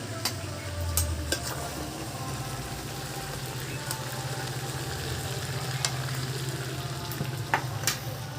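Spiced meat (kosha mangsho) sizzles and fries steadily in a pan for a Bengali home-cooked dish, with occasional clicks and scrapes of a spatula stirring it, close and continuous with no talking.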